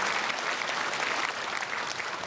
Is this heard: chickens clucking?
no